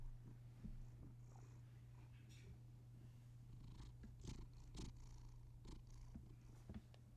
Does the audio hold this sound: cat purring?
yes